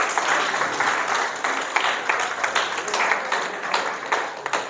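A church congregation breaks into loud, continuous applause, dense clapping from many people filling the room, with a few sharper individual claps standing out toward the end.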